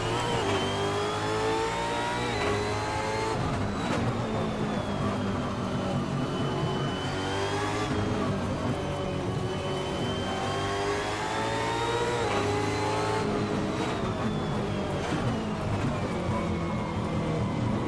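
Supercar engines race around the Townsville street circuit in Assetto Corsa, a continuous high whine of revving cars rising and falling through gear changes, loud and unbroken for the whole stretch.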